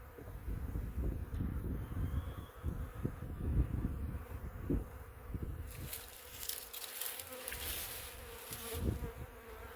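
Honeybees in an opened hive during an inspection hum in a faint, continuous buzz close by, with soft wind noise and occasional handling knocks.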